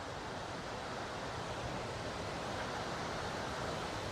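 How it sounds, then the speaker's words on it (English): A waterfall at Tallulah Gorge gives a steady, dense broadband roar that holds at an even, loud level for the whole stretch, with no talk over it. "Man, that's a nice waterfall right there."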